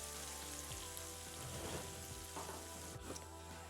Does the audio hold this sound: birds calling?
no